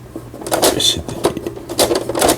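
A Singer 3722a household sewing machine stitches in a quick mechanical rhythm, with sharp clattering bursts repeating close and moderately loud, and a faint voice in the background.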